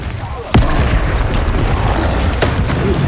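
In the Hogwarts Legacy video game, a Confringo spell goes off as a sudden loud boom over constant game noise, and a second, weaker blast follows about two seconds later.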